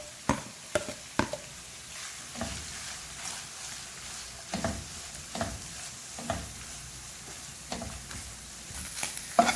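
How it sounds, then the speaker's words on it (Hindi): Shredded chicken fries in a pan with a constant soft sizzle, broken by repeated scraping stirs of a spatula at an irregular rhythm, close and fairly quiet. "चिकन को 2 मिनट तक फ्राई करेंगे।"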